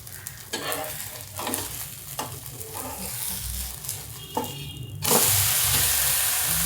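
A flipped flatbread sizzles and hisses in a hot pan, with soft scraping and stirring clatter up close, then a louder, steady steam-like sizzle takes over for the last couple of seconds.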